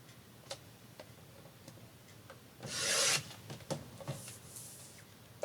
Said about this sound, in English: We're going to trim this side so we don't cut off the flower.